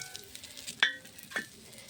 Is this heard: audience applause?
no